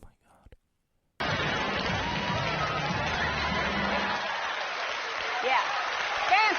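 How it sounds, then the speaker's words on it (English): A crowd reacting to George W. Bush appearing on a screen, a dense roar of cheering and applause that starts abruptly after a moment of near silence and holds steady, with faint voices mixed in. "And I think they cheer when George W. Bush comes on the screen."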